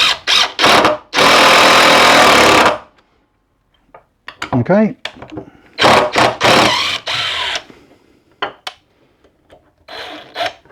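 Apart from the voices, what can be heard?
cordless drill driving a screw into bench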